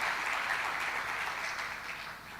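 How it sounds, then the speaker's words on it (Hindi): Listeners at a spiritual discourse clap together in a sustained, moderately quiet ovation that gradually tapers off, with no voices over it. "हाँ, ताली बजा लीजिए, आपकी कोई दिक्कत है क्या?"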